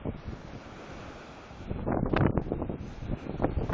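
Strong wind gusts buffet the microphone over rough, choppy water on Chesapeake Bay during a storm, with waves about 5 to 6 feet; a steady roar builds into louder, irregular gusts and splashes in the second half, with no talking.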